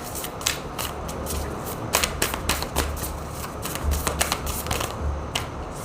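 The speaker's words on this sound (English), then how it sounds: "I gotta shuffle here" Tarot cards being shuffled by hand, crisp riffling flutters and sharp taps in repeated bursts, close and clear with no talking.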